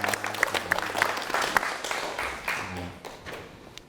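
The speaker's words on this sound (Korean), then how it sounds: "박수 한번 주세요." An audience at a business lecture gives a short burst of applause with a few distinct claps up front, then the sound thins and tails off while the speaker's voice comes back in.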